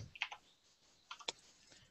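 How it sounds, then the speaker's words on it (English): Quick bursts of sharp clicks from a computer mouse's right button being spammed during Tekkit Minecraft play, two clusters of rapid taps near the mic with quiet gaps between. "like spamming the right click button."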